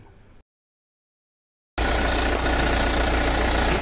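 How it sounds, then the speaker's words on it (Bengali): A JMC pickup truck engine, a 1.5 or 3 ton model, idles steadily and loudly up close after a short quiet gap, with a constant low rumble and no talking. "ইঞ্জিনের সাউন্ডটি আপনাদেরকে শোনাচ্ছি"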